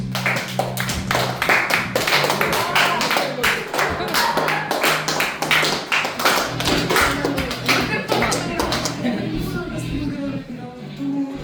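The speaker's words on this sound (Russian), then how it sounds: "Аплодисменты нашим" Steady applause in a student dormitory at a music school birthday tea party: many hands clapping close and lively, with a low hum underneath, thinning slightly toward the end.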